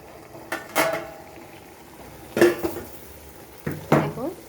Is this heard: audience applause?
no